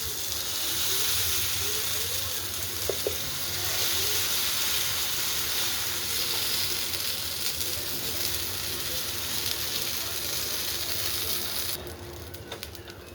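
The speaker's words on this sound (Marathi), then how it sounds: "तेल टाकून घेऊया आणि हा कांदा टमॅटोचा डोसा सोडूया" Onion and tomato dosa frying in oil on a hot griddle, with a continuous broad sizzling hiss, steady and close, that drops away sharply near the end.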